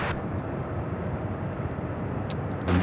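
An ABX Air Boeing 767 at Louisville airport gives off a steady broadband jet roar, loud and continuous, with a few faint clicks over it.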